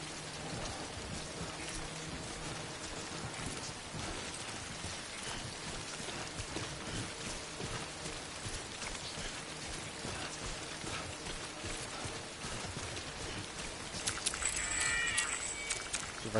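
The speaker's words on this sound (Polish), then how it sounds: "Przez ten deszcz." Steady rain in the video game Death Stranding patters continuously, a dense even hiss of drops throughout, growing slightly louder near the end.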